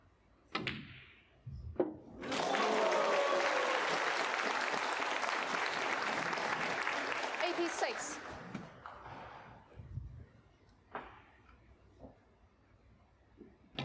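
Snooker crowd applauding a break at the Shanghai Masters, a burst of clapping that swells quickly, holds for several seconds and then fades, with a few knocks and thuds around it.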